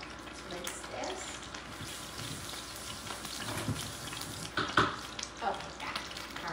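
Capers rinsed under a running kitchen tap, a soft steady stream of water with faint splashes and clatter, quiet and close, with light talk in the background.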